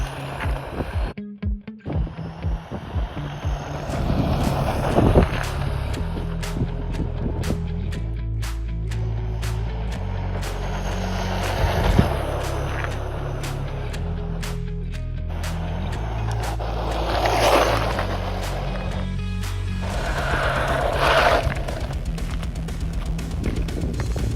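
A DeeRC 9207E 1/10-scale brushed RC truck fitted with a Titan 12T motor on a 2S lipo runs with a continuous whining buzz, surging as it accelerates and passes, over outdoor ambience.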